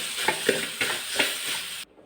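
Potato pepper fried rice stirred in a hot pan, soft sizzling with a few scraping stirs in quick succession before the sound cuts off.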